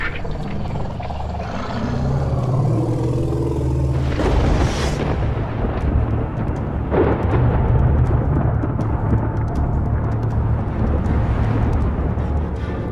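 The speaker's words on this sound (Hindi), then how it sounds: "गर्मियों के दौरान लुआंगवा में लगभग रोज ही बादल गरजते हैं और बरसते भी हैं।" Thunder rolls long and deep over Africa's Luangwa Valley in summer, a loud sustained rumble that swells and lingers across the whole stretch with no voices.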